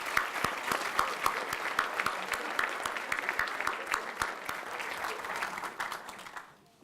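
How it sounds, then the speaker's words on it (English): A banquet crowd at an athletics hall of fame dinner applauds student athletes, sustained clapping with some individually distinct sharp claps, fading out at the end. "let's give a round of applause for our current student athletes"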